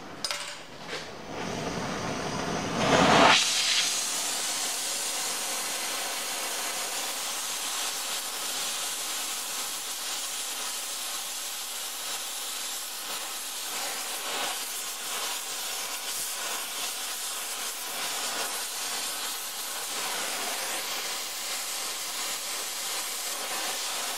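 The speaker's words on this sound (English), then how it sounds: "Now for heating, Oxy Propane works really well." An oxy-propane torch hisses loudly and steadily while heating half-inch rebar, the hiss roaring up after a brief ignition burst at the start and then holding constant and close for the rest.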